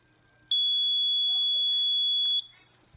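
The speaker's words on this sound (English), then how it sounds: "The beeping hurts my ears." A single loud, sustained electronic beep rings steadily for about two seconds, a piercing high tone standing alone against faint background hum.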